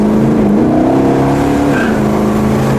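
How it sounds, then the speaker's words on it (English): A 1969 Dodge Daytona Charger with a 426 Hemi engine revs hard and loud from inside the car, its pitch rising then sagging as the engine bogs down, with no talk. "Hey, car bogs down."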